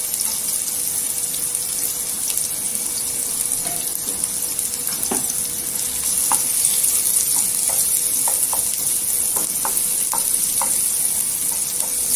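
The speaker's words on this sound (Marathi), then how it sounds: "इथे 1 चमचा तेल टाकलेलं आहे, त्यात 1 कांदा टाकायचा" Sliced onion frying in a spoonful of oil in a pan for a Marathi brinjal thecha, a steady hiss and sizzle running throughout, with occasional soft clicks and scrapes from stirring.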